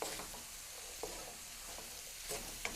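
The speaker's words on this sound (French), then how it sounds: "Après, nous mélangeons." Garam masala being stirred into a potato and chickpea curry in a pan, a soft continuous scraping and shuffling with a faint sizzle beneath and a few light knocks of the utensil against the pan.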